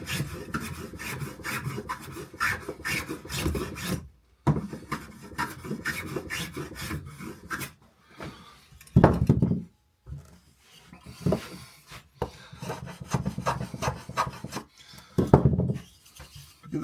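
Hand rubbing down a small wooden beginner project, a dry rasping scrape in repeated strokes of varying length with short gaps, close and fairly loud with no talk.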